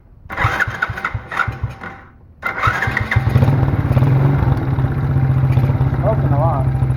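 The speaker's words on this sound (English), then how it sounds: "We'll jack up the rear end so I can give it a little throttle." A tiny quad's small engine sputters through a couple of start attempts, catches after a brief pause, then idles and revs with a steady buzzing drone close by, as a person speaks briefly over it.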